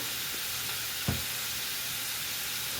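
Smoked paprika goes into a potjiekos pot, which gives a constant soft frying sizzle with one brief, sharper hiss burst partway through.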